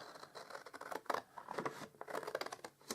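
Scissors snipping through the lid flap of a cardboard gift box, a few short crisp cuts and rustles close up, quiet and uneven.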